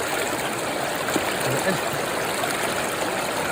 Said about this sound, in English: the water has just come flying through the sluice